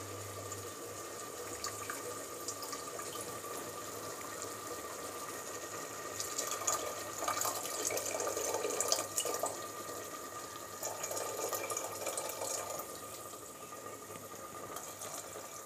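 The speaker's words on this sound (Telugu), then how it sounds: "ఇప్పుడు ఉలవలు ఉడకపెట్టుకుంటే వచ్చిన చారును పోస్తున్నానండి" Horse gram cooking broth pours into a pot as a soft, continuous splashing trickle, swelling slightly midway and then easing, steady and fairly quiet.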